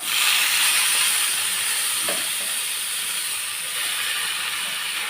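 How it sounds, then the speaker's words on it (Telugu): Gongura (sorrel) leaves frying in a kadai for pickle, a loud, steady broadband hiss of steam and sizzle that eases slightly midway and carries on without pause. "ఇప్పుడు కళాయిలో వేయించుకుందాం."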